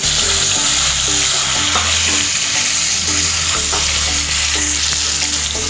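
Garlic paste sizzles loudly in hot oil with two dried red chillies and whole peppercorns, frying up close under a steady crackle while a utensil stirs the pan in repeated knocks.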